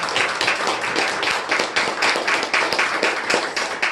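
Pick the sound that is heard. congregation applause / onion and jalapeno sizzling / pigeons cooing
congregation applause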